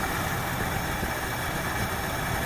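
A 1968 Ford engine idles unevenly with a miss or two after running very rich, producing a steady, close, loud rumble with faint irregular stumbles throughout.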